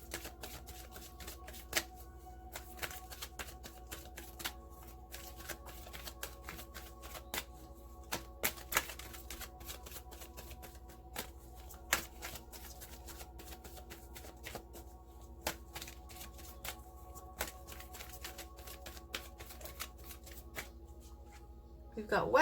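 Romance Angels oracle cards being shuffled, soft repeated riffling and flicking at close range going on steadily throughout, with occasional sharper card snaps and a quiet room behind.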